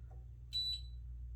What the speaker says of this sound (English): It makes a little beep when it comes on.